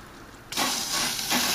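A garden hose sprays water onto an air conditioner coil, a close, loud hissing rush that starts suddenly and then continues steadily, with a slight swell near the end.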